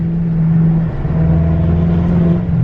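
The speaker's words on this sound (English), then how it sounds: "I'll show you guys some revs right now so you guys can see the before and after." A BMW F10 M5 with a straight-piped exhaust revs up close and loud, its steady, droning engine tone swelling and easing slightly over a few seconds.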